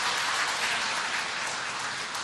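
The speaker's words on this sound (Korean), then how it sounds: "우리 힘차게 좀 수고했다고 박수 한번 좀 쳐주시죠" Faint, even applause from a church congregation for a returning short-term mission team, a soft steady patter of many hands heard from a distance.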